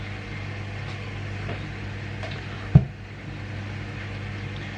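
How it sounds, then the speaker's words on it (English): A washing machine runs steadily in the background of a home kitchen, a low continuous hum with a single sharp knock near the middle and no talking. "If you hear the washing machine in the background"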